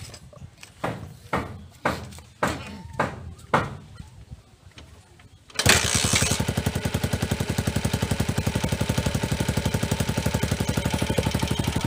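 A Honda TMX motorcycle with contact point ignition: several sharp kick-start strokes, then the single-cylinder engine fires and settles into a fast, steady, even idle that runs loud and close to the end.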